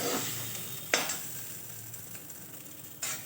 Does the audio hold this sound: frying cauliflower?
yes